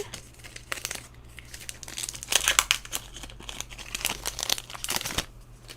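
A Magic: The Gathering Innistrad Double Feature booster pack wrapper being torn open and crumpled, close and loud crinkling bursts with sharp tearing rips, irregular and busy, with no talking.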